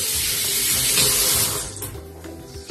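Cold water from a kitchen tap runs steadily over a hand, a bright continuous splashing hiss that thins out near the end, with no talk.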